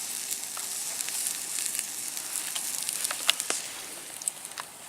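Steak sizzling in a pan at a summer hammock camp, a soft continuous crackle and hiss with scattered pops, close but fairly quiet.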